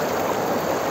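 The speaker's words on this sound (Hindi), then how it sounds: "देखिए इतनी स्पीड से पानी आता है।" Fast-flowing water rushes loudly and steadily through a channel that feeds a water mill, a dense continuous roar with no pauses and no voices.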